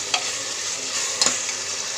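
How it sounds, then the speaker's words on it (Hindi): Bottle gourd with cumin frying in a pan, a steady bright sizzle broken by a few sharp scrapes of a spoon stirring, close and alone without voices. "हम इसे अच्छे से यहाँ पे फ्राई करेंगे।"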